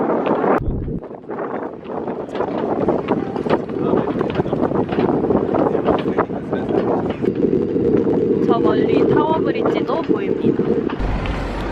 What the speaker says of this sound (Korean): 강답게 바람이 많이 불고